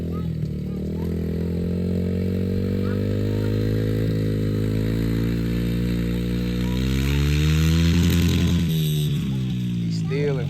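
A Yamaha TTR dirt bike, ridden by a young rider stuck in first gear, drones loudly and steadily, its engine pitch climbing and wavering as the revs build toward the end.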